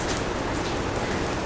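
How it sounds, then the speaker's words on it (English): Light drizzle patters steadily onto the deck of a cruise ship in cold Alaskan weather near Stikine Glacier, a constant soft hiss with no voices. "So there's a bit of drizzle and it is cold"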